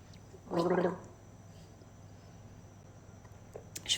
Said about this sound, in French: il faut que je garde la gorgée 30 secondes sur ma langue